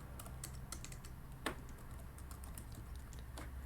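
Someone types code on a computer keyboard in quick, irregular clacks. The keystrokes are close and fairly quiet, with one louder key strike partway through, and no voices.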